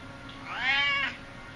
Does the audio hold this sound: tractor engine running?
no